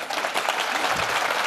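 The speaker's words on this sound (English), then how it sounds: "So do you think it's worth a round of applause?" Audience applause at a comedy talk about Python-programmed microcontrollers, a dense, even wash of clapping from a crowd that holds steady for a moment.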